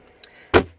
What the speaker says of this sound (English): We'll lock this door up for you.